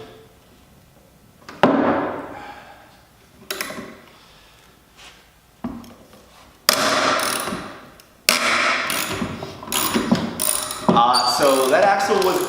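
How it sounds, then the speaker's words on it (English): A hand ratchet working loose a very tight axle nut on a Ryan Williams scooter resting on a table, with bursts of mechanical clicking and clanking that grow busier and louder toward the end. "All right, so I got my ratchet."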